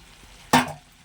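Potatoes and soya chunks dropped together into hot oil give a sudden loud sizzling burst that fades over about a quarter second, then settles back to quiet.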